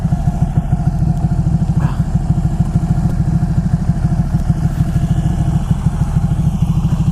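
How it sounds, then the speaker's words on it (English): A 2012 Ducati Panigale 1199 idles in neutral, its engine thumping out a loud, rapid, steady pulse with a mechanical clatter, heard close and uninterrupted for about seven seconds. "A 2012 Ducati Panigale 1199."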